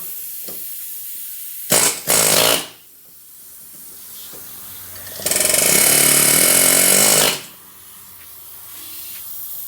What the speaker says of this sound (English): I'll try the air chisel straight down.